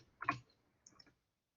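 Computer mouse clicked twice during a graphing lesson on a computer, a sharp close click followed by a softer one about half a second later, then quiet.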